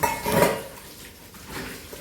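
Dishes and cutlery knock and clatter briefly near a sink, then fade into a quieter rustle of handling.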